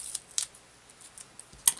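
Scissors snipping through a foam square for a quilt-style card, a few quiet, close, crisp cuts with a sharper final snip in an otherwise silent room.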